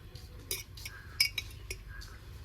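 Ghee being poured over a masala dosa on a hot pan, heard as faint sizzling with a few light metallic clinks and scrapes of a utensil against the pan, quiet and close, with no one talking.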